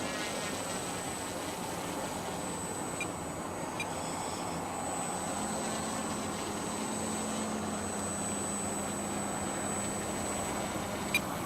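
An E-flite Timber RC plane on floats takes off from water, its electric motor giving a steady, continuous whine with a faint rising tone, heard from a moderate distance without speech.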